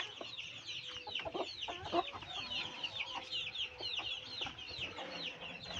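Hens cluck and chirp near and far in a backyard flock with young chicks, a busy overlapping chatter of short calls with occasional louder squawks, with no talking.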